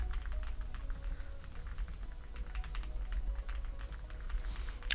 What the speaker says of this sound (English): you can only hear it because I've put the mic to the keyboard